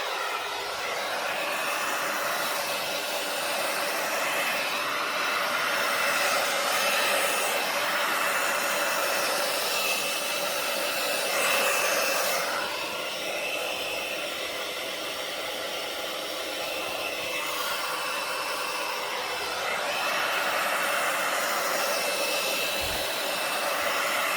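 A hair dryer blows steadily on wet acrylic pour paint in a Dutch pour, a loud continuous airy roar that holds throughout with slight swells in intensity and no talking.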